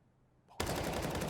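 A rapid automatic rifle spray in CS:GO bursts in suddenly and loud after a quiet moment, with shots fired in quick continuous succession.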